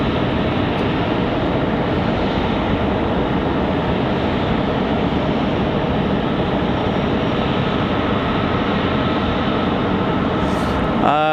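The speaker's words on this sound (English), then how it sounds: "737 MAX 8. United 434 off to Newark" A United Boeing 737 MAX 8 departs Raleigh-Durham for Newark, its broad steady jet engine roar filling the whole stretch at constant loudness.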